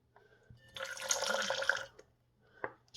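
Lime juice is poured into a blender bottle in one steady trickle lasting about a second, with a few faint drips before and after, close and alone.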